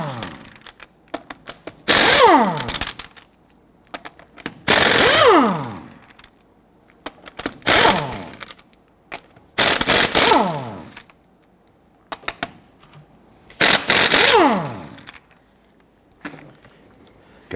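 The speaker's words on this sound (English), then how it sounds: "Using a 19mm socket, I'm going to go ahead and loosen and remove our lug nuts." An impact wrench with a 19mm socket loosening lug nuts on a 2006-2010 Hummer H3, several loud, close bursts of rattling hammering a couple of seconds each, separated by short pauses and small clanks.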